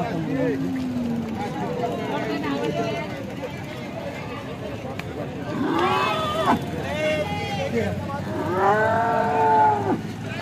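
Cows moo twice, fairly close, over a steady murmur of voices and background bustle at a busy outdoor cow market in Alephata.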